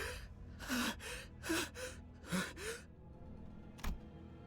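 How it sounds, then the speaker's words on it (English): Sinclair, a character in the video game Limbus Company, gasps for air in a run of sharp, ragged breaths, several quick intakes followed by a final short gasp, close and without speech. "Sinclair was gasping for air behind him"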